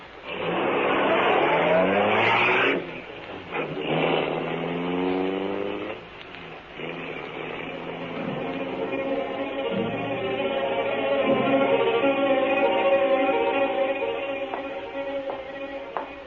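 A car revs and pulls away, its engine note rising through several gear-like sweeps before settling into a steady drone that fades and swells again, loud and close with no talking.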